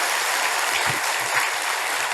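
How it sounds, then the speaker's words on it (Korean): Congregation at a Buddhist dharma service clapping together, a dense, steady round of applause filling the room without pause. "오늘 막제를 잘 회양한 것에 대한 자축의 박수 한번 스스로 치시기 바랍니다"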